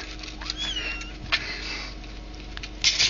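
A cat in a cattery meows a few times, a thin rising cry and a couple of short calls amid faint rustling and background noise.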